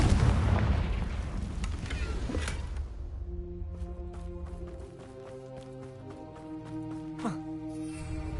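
Spell explosions from the Hogwarts Legacy video game: a loud rumbling blast of booming, crackling noise that fades over several seconds into ringing, layered magical tones and sparkling hits, with no voices.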